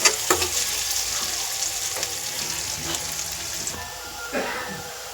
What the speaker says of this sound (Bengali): পেঁয়াজটাও ভাজা হয়ে গেছে